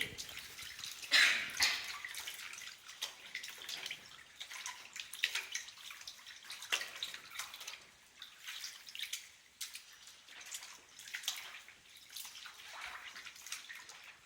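Octopus being rinsed and scrubbed by hand under running tap water, a continuous splashing and dripping stream with irregular wet handling noises, close but fairly quiet.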